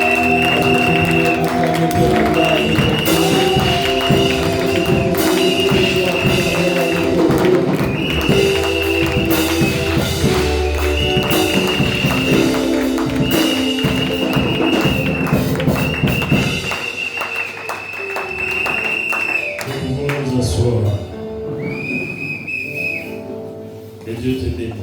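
A church congregation at a Sunday service cheers, whistles and applauds, with steady loud clapping and shouts over music that thin out toward the end.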